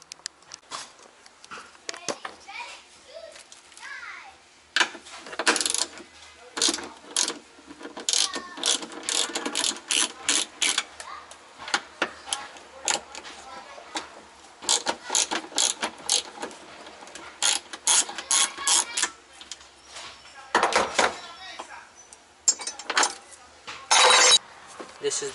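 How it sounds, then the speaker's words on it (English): A ratchet works on the rear strut bolts of a Honda Accord CB7, giving bursts of rapid, close mechanical clicking separated by short pauses. "Just gotta take out these two bolts. These are what hold the struts in place."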